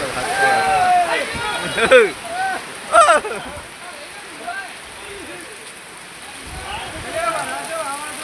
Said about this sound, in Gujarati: ફૂલ વાવાઝોડા સાથે વરસાદ